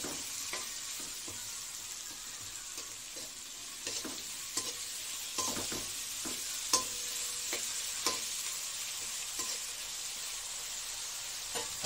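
Garlic, fenugreek and green chilies fry in a pan, giving a steady hissing sizzle throughout. Frequent small clicks and scrapes of stirring sit over it, close and moderately quiet, with no talk.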